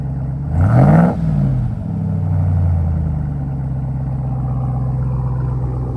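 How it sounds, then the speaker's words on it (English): Ram TRX pickup with a supercharged Hellcat V8 blips its throttle once through a Vibrant resonator exhaust, a loud rising rev near the start that falls back to a steady, rumbling idle with no talking. "when you do the rev, don't leave your foot on it"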